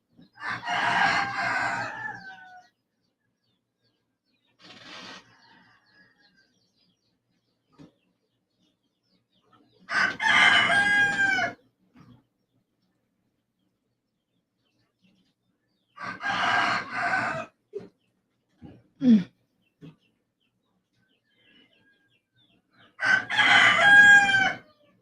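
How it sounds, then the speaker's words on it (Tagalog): Roosters crowing and chickens clucking at a home yard, several loud crows in separate bursts spaced a few seconds apart, with quiet gaps and brief clucks between. "Hala, nakakaya yung mga manok."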